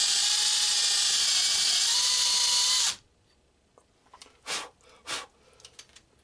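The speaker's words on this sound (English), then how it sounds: "Okay, I'm going to drill. Follow the pilot that Scott put in." A power drill whines loudly and steadily for about three seconds as it drills through a pilot hole, then stops, followed by a few short scraping and brushing noises.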